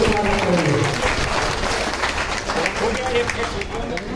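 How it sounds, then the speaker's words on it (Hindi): A crowd at a political party gathering claps loudly to welcome new members, with a sustained clapping wash and voices mixed in beneath it. "सभी लोग जोरदार तालियों से स्वागत करेंगे।"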